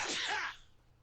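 A single sharp sneeze bursts out close by, a half-second explosive blast of breath that cuts off abruptly into quiet room tone.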